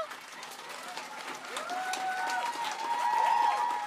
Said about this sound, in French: On applaudit-tu tout ce beau groupe-là?